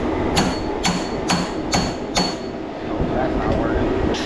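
Hammer blows ring out on a 1977 crew cab truck, about five sharp metallic strikes at a steady rhythm, fairly close, over a constant background rumble.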